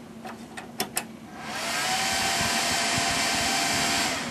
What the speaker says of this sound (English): this is the first boot up of the computer